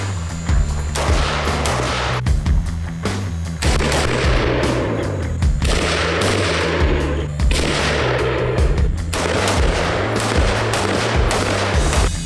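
Rapid gunfire at a shooting competition stage rings out loud and close, with repeated sharp shots in quick bursts over a steady low rumble and no talking.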